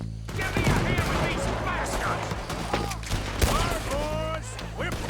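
A chaotic Red Dead Redemption 2 shootout at the American Distillation mission: continuous rifle and pistol shots overlapping in a dense fusillade, with shouting voices, whizzing effects and a low steady music bed underneath.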